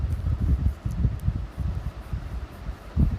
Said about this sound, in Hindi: इतनी अच्छी हवा चल रही है कि जो दिन में गर्मी थी वो सब ख़त्म हो गई